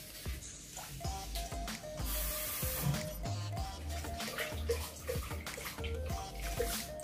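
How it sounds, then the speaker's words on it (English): Water runs into a kitchen blender jar holding blended peppers, a steady splashing pour with faint clinks, close and moderately quiet, no talking. "I'm going to add just a little water inside."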